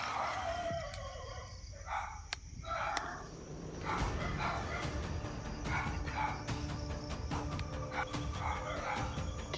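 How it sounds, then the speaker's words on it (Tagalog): A dog barks a few times close by, sharp yaps early on, over a steady outdoor hum of crickets and insects. "So, may aso."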